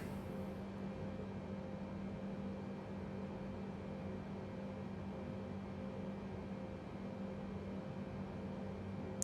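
A steady, even airliner jet engine hum from a Boeing 787-8 startup in a flight simulator game, heard from the cockpit, with a low drone and broadband hiss, constant and moderately quiet throughout.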